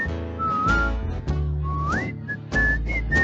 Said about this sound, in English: Somebody whistle. Everybody whistle.